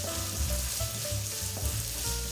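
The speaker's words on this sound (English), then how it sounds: "Sauté the onions over medium-low heat until golden brown." Chopped onions sauté in a pan over medium-low heat, a continuous close sizzle with a low, pulsing rumble and faint stirring throughout.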